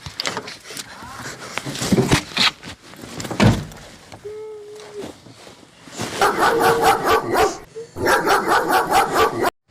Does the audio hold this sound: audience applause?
no